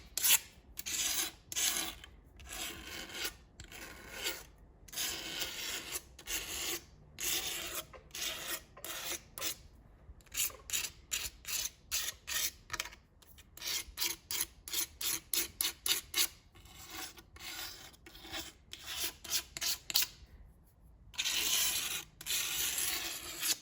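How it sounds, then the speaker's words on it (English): Silicone sealant is scraped and pulled off an Audi VW 2.0T engine in a rapid run of rasping, scratchy strokes, close and fairly loud, with short pauses between bursts and no talking. "Here I'm going to try to pop this silicone out."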